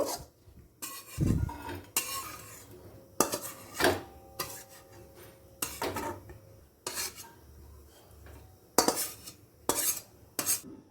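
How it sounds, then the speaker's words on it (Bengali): A cooked sattu filling is scraped out of a pan into another vessel. A metal spoon clanks and grates against the pan in irregular, close bursts with short pauses between, and nobody speaks. "ব্যাস রেডি পুর এবার অন্য পাত্রে ঢেলে নেব"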